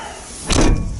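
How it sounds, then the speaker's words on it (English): A skid loader's cab door swinging shut, heard as a single firm thud with a short rattle, close by and standing alone in the quiet. "you shut the door"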